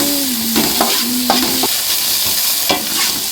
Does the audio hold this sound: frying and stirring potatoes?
yes